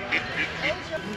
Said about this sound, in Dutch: De eendjes.